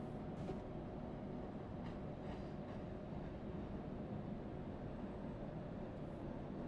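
A tram rolls past in Euro Truck Simulator 2, a steady low rail rumble with faint squeals, continuous and moderately quiet throughout with no talking.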